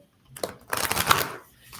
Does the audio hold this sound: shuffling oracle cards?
yes